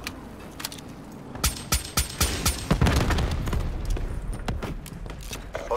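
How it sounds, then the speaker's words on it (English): A firefight in the video game Black Ops 3 beta, with rapid bursts of gunshots and booms stacking up over several seconds, fairly loud and dense, with no talking over it. "Oh god, that's a firefight."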